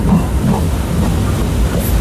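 A steady, loud rumble and hiss of an Amta to Howrah local train departing, heard close by from on board, with no clear voices.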